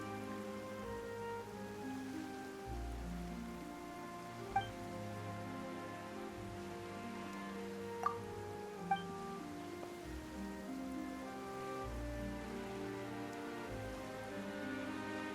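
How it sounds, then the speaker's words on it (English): Rain falls steadily in Genshin Impact, a soft, continuous patter on surfaces with a few brief drip accents, heard faintly beneath a sustained musical score. "Why is it raining all of a sudden?"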